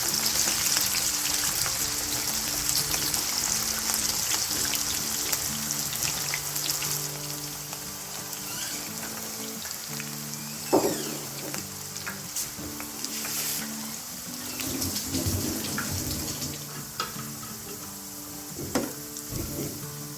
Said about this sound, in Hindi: अब इसको फ्राई करते हैं